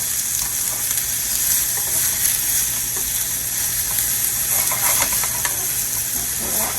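Mixed vegetables with portobello mushrooms sauté in a hot pan, giving a loud, steady sizzle and hiss throughout with occasional scraping stir sounds.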